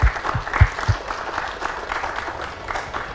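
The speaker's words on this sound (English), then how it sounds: "give them a round of applause." An audience applauds panelists at an Independence Day broadcast event, opening with a few loud, close individual claps before settling into steady, moderate clapping from the crowd.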